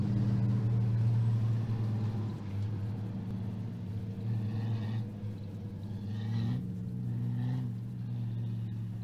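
Mini stock off-road race cars roll around a short course track on a pace lap, a steady low engine rumble from several cars with slight swells in revving as they circle, fairly close and continuous.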